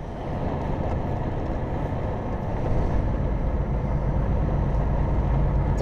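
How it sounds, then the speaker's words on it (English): A Volvo car on the move makes a steady, close road rumble and engine hum, slightly louder in its second half. "So he's driving an old Volvo today, whereas I'm driving a new one"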